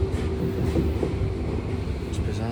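Riding a crowded train in Tokyo: a steady low rumble and hum of the carriage in motion, with faint rattling, muffled voices and a brief high squeal near the end.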